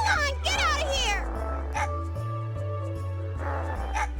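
Paprika the dog in the PlayStation game Mega Man Legends gives a short run of high, wavering whimpers and yips near the start. Steady game music carries on beneath, and people talk over the sounds.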